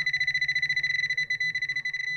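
A Nokta AccuPoint pinpointer metal detector signals non-ferrous metal with a rapid, stuttering high-pitched tone that pulses quickly and unevenly for about two seconds, close and clear.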